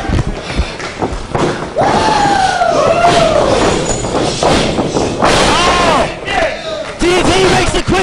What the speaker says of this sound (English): Corino getting the crowd behind him